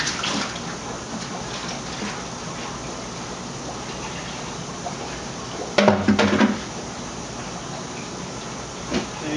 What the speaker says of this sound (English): Get a bucket, clean that out.